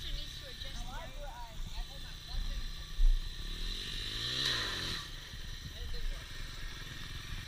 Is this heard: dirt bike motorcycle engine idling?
yes